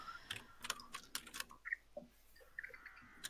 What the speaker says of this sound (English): I'm gonna wait until these typing noises